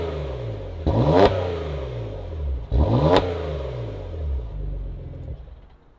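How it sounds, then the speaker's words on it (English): A Porsche Macan engine, examined at a salvage auction, is blipped twice in quick revs that fall back each time to a smooth, low, steady idle close by. "this Macan, it sounds awesome. Idle's nice"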